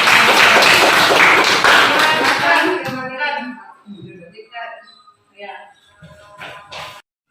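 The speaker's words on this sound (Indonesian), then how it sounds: "tepuk tangan untuk kelompok" A classroom of schoolchildren gives a group dense, loud applause that fills the first three seconds, then breaks off into a few scattered claps and quiet voices.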